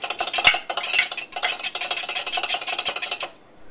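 A fork scrapes and stirs egg muffin mixture in a muffin tin, giving quick rhythmic scratching strokes, close and fairly loud, before stopping abruptly.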